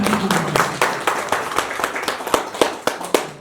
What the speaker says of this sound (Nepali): एकखेप ताली बजाइदिनु